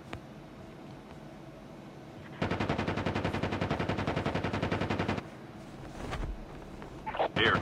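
Rapid automatic gunfire from a shooter video game in an Alcatraz tournament match, a loud sustained burst of evenly spaced shots lasting a few seconds over quieter game ambience, followed by scattered noises.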